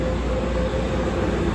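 An Amtrak Capitol Corridor passenger train at Oakland Jack London station produces a dense, loud, continuous rumble and rolling roar close by, with no voices over it.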